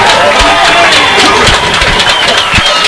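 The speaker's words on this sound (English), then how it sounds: "You hear this Delmar crowd starting to get into it" A home crowd at a Delmar high school football game against Milford, a loud, dense roar filling the stands with rising cheers and shouts throughout.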